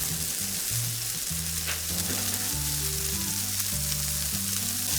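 Onions and sausage frying together in a pan, a loud, continuous crackling sizzle with a faint background hum of music, no voices.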